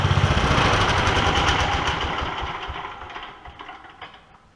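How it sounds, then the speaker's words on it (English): A 13 horsepower Murray lawn mower engine turns over in a loud, busy mechanical clatter that runs for several seconds and gradually fades and slows toward the end. "That was the motor turning"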